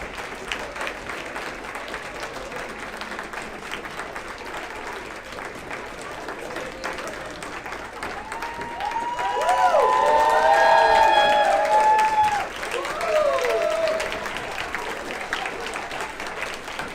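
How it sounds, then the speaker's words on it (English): An audience at the NA Brno dobrý 2022 event applauds the organizers, with steady clapping that swells into louder cheering and whoops midway, then eases back, crowd noise throughout. "So please come here and give them a round of applause."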